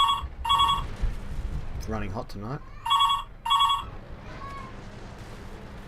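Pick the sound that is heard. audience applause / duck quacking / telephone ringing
telephone ringing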